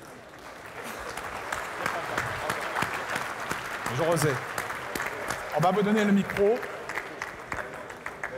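Audience applause for Roger Zerniak as he is called up on stage at a morning event, a steady broadband clapping that runs throughout under someone speaking French into a microphone.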